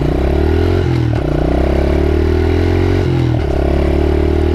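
A 2015 Honda CRF 110 trail motorcycle runs steadily on a ride, its small engine droning loud and close with brief dips and rises in revs and light rattling throughout.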